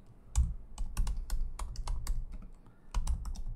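Keys clack on a computer keyboard while a code comment is typed: quick, uneven bursts of close, crisp taps with a short pause before a final run.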